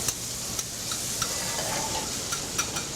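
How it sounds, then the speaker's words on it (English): Food being stirred in a hot pan in a restaurant dining kitchen, with a steady soft sizzle and faint scraping ticks of a utensil repeating through the moment, no voices. "give that a stir"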